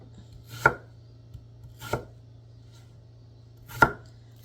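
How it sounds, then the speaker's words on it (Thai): A knife dices a honey-core apple into bite-size cubes. Three crisp, separate chops land on a cutting board at uneven intervals against a faint steady hum. "หั่นเป็นลูกเต๋าพอดีคำนะคะนี่"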